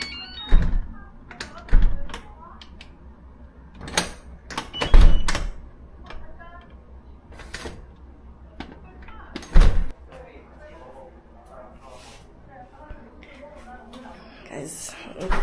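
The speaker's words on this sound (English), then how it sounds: "Guys, my door is not locking." A hotel room door that will not stay locked is opened and closed repeatedly, giving several loud thuds and latch clunks at uneven intervals, with a person speaking in between.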